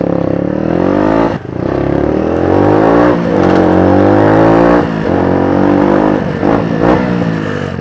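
A motorcycle revs hard and climbs through the gears, each shift breaking the rising engine whine, then drops back down toward first for a front-brake rolling stoppie; loud and close, with no speech.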